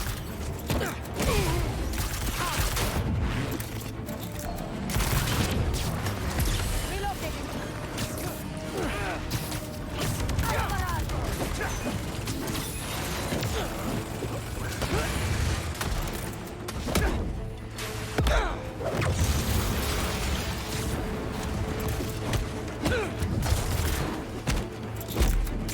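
Enemy gunfire crackles in bursts through a battle in the video game Marvel's Spider-Man 2, joined by mechanical clanks and impacts, steady and dense across the scene, with voices speaking at points.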